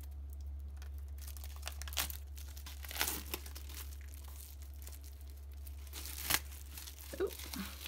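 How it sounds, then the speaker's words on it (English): Project Life craft cards being unwrapped from their packaging, with close crinkling and tearing of plastic wrap and a few sharper rustles throughout, over a steady low hum, with no talking. "So let's just open those up and see what they are looking like."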